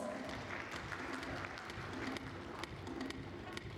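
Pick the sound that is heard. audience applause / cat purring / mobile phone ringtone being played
audience applause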